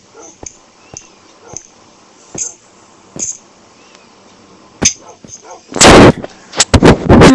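A Minecraft explosion: soft in-game clicks and thumps lead into a sudden loud, booming blast near the end, followed by a few sharp after-bursts.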